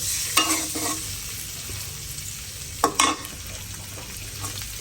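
Eggs frying in a kadai; a faint, steady sizzle punctuated by a few sharp scraping clatters of a spatula stirring in the pan, close and without speech.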